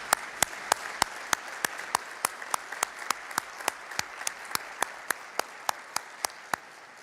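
Regular, sharp claps sound in a steady rhythm, roughly three per second, ringing out over a soft wash of room noise as an audience at eWeek 2019 claps for the staff.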